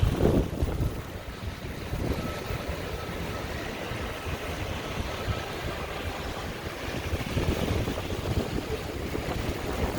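Strong wind gusts through the streets of Streeterville in downtown Chicago during a night snowstorm, a loud low rumble of buffeting that swells and eases continuously.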